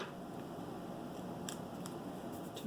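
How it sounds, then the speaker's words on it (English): Scissors trim a flower stem for a farmhouse-style paper craft, giving three or four faint, quick snips over a steady background hiss. "I can trim this stem"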